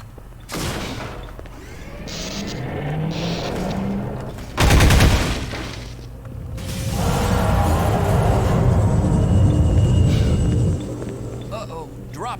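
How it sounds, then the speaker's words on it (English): Automated turrets in Half-Life 2 fire sustained bursts of gunfire, with one sharp loud blast partway through followed by a long dense stretch of rapid shooting and rumble under game noise. "Uh-oh, turrets."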